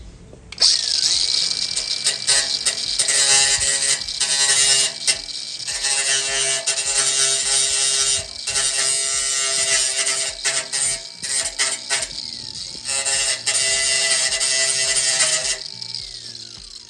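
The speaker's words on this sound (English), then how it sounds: "So I'm gonna bust out the grinder and try and hopefully I can clean that up" An angle grinder works over the edge of a Mazda Miata fender, grinding down excess metal in a loud, continuous high-pitched whine that runs almost unbroken, with brief dips in pitch and load as the disc bites and lifts.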